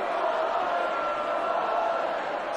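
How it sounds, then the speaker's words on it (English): Spectators at a Welsh Varsity rugby union match between Cardiff University and Swansea University raise a steady, broad crowd roar of cheering and chanting that holds evenly throughout, with a commentator's voice faintly mixed in. "the crowd find their voices"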